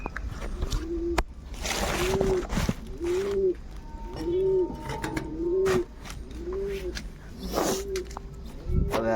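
Pigeons cooing repeatedly in a steady rhythm of low, rolling calls at moderate distance, with occasional splashes and a person talking in the background.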